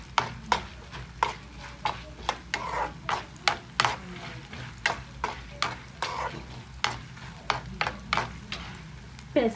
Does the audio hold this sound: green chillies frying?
yes